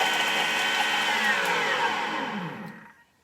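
A Thermomix whirs at high speed as it chops raw garlic for tzatziki. The motor drones loudly and steadily, its pitch sliding slightly, then winds down and cuts off near the end.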